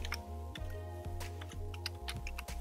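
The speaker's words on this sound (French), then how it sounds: "Et là, on va taper." Rapid, fairly quiet keystrokes on a computer keyboard, irregular clicks over a steady electronic hum, with no one speaking.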